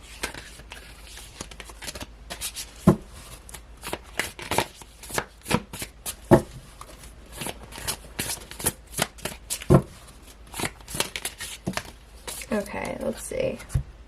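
Tarot deck being shuffled by hand, with cards riffling and slapping down in irregular quick bursts, close and crisp, some cards dropping onto a surface, with a voice talking faintly in places.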